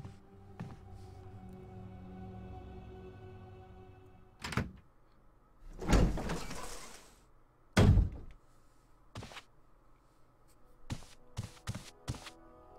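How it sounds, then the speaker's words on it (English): Loud door bangs and thuds in the Resident Evil HD video game, several separate heavy impacts spread over a low ambient hum, with a cluster of sharper knocks near the end. "That door banging."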